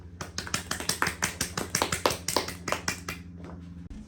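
Students at a school assembly give a round of applause: steady, fairly sparse clapping with sharp, evenly spaced claps that continues for several seconds, then fades.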